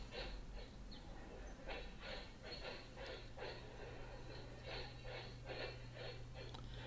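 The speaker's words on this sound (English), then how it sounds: "Slow moving train at that." A long, slow-moving train rolls past on a rainy day, a faint steady rumble under a low hum, with rhythmic clacks and squeals repeating throughout.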